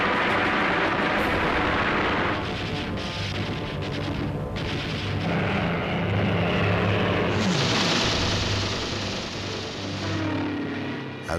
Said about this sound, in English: they were intercepted by more than 300 Spitfires and Hurricanes.